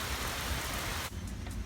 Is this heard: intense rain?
yes